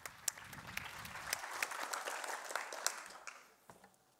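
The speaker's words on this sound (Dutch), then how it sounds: "Ja, applaus." An audience at a Knokke-Heist evening event claps for a presenter taking the stage, a fairly close, busy patter of hands that swells, then thins out and fades near the end.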